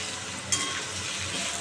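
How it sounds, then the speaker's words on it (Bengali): Food sizzles in a hot pan as it is fried until reddish-brown: a steady, close hiss with a brief clatter near the middle and no voices. "তো ভালো করে লাল করে ভাজবো।"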